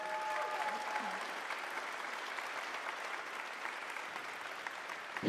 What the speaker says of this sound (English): if everybody can give me one more applause, up here in the corner is Neil White